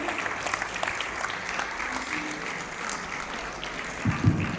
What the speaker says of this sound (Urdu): میں چاہتی ہوں زوردار تالیوں میں خوش آمدید کیجیے